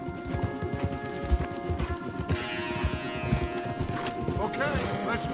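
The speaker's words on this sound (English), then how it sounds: "Okay, let's dismount here. We won't get the horses down this path." Horses galloping through trees in Red Dead Redemption 2, a dense, continuous drumming of hooves close by, with a brief whinny and voices talking over the ride.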